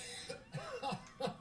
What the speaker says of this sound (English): I was not faking that cough.